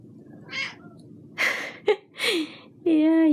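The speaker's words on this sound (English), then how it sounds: "Crazy cat?" A house cat meows several times, close and fairly loud, short calls spaced apart and ending in a longer drawn-out meow.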